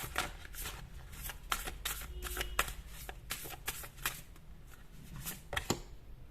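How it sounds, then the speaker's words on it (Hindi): Tarot cards shuffled by hand, giving repeated close, crisp riffling and rustling bursts in an uneven rhythm against a quiet background. "यहां से फाइनल कार्ड निकालते हैं"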